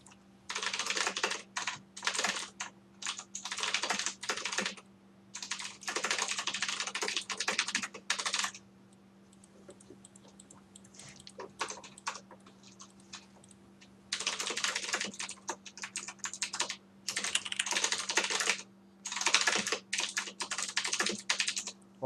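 Typing on a Ducky mechanical keyboard with blue switches, close-up and crisp, in bursts of rapid clicky keystrokes separated by short pauses over a faint steady hum.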